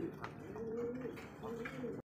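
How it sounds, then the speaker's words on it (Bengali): A pair of fancy pigeons coo in soft, low rolling calls, faint and close, over a steady background hum with no talk. "বন্ধুগণ দেখতে পাচ্ছি এখানে আরো এক পেয়ার শৌখিন কবুতর"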